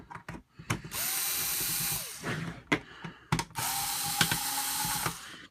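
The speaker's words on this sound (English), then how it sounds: "We're going to take out the couple of screws I have secured." A power screwdriver backs screws out of a BOOMco Burstwave blaster, with loud whirring bursts of about a second each, close up, broken by sharp clicks and handling knocks between runs.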